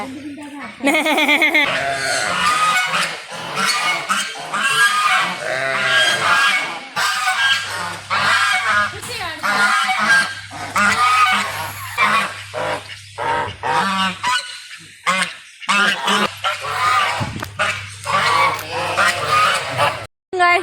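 A baby goat bleats in repeated loud, wavering cries close by on a farm, with people talking around it.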